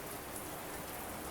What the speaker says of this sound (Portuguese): era possível ainda ouvir parcialmente a chuva que caía calma lá fora